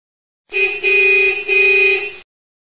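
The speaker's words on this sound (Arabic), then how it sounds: "حافلة" A bus horn sounds alone and loud in three joined blasts, a bright, steady tone that ends sharply after under two seconds.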